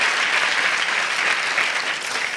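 Steady applause from a conference audience at a company centenary event greets a student on stage, many hands clapping in a dense, uniform wash that holds throughout with no talk over it.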